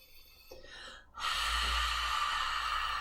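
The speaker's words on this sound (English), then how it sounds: "You breathe in and out through the nostrils, making that slightly whisper-like sound." A soft intake of breath, a brief pause, then a long, steady hissing exhale through the nostrils, close and breathy, like a whispered breath through the throat.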